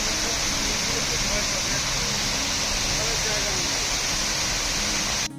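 Waterfall near Manchester roaring as steady, loud broadband rush from close range, continuous for the whole stretch with no other sound standing out, dropping off abruptly at the very end.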